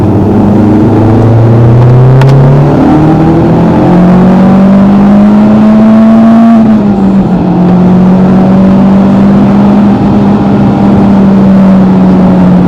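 A Mitsubishi Evo engine with a stock exhaust drones loudly as it accelerates at full throttle, its pitch climbing steadily, then dips briefly and holds at a high, sustained roar.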